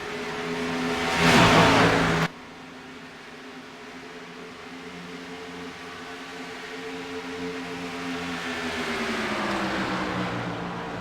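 A race car engine accelerates during a broadcast race. A loud revving burst opens, then a steady droning engine note follows that slowly rises in pitch, with no commentary over it.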